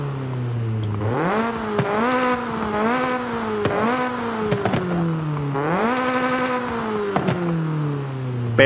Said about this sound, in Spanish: Vamos a escuchar un poquito el auto antes de que se me olvide.